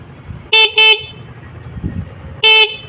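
A car horn being tested during troubleshooting honks loudly three times, two quick blasts close together and then one more after a pause, over a quiet background.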